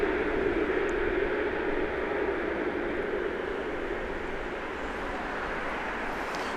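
A jet airliner arriving at Grand Cayman airport on a flight from Kingston, Jamaica gives a steady, loud broadband roar that eases slightly as it continues, with no voices.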